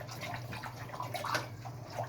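Water swirls and sloshes as week-two flower nutrient solution is stirred into a 15-litre batch, a steady soft liquid churning with light splashes and drips, close and continuous.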